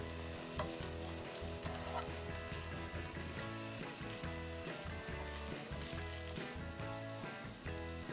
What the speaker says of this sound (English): we're gonna add back in our ground beef. Give that a nice stir.